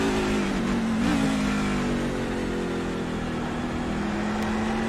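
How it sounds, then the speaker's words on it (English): A truck engine in a sim racing game at Watkins Glen drones steadily and loudly with a rising and falling throttle note, held on power throughout with no talk. "You hear the throttle control right there"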